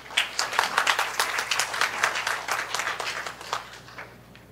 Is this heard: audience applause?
yes